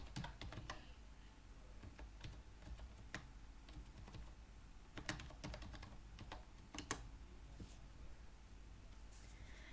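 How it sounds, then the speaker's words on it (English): Fingers type a kubectl command on a computer keyboard, giving quiet, irregular clicks and taps with short pauses, close and alone. "Here we will type"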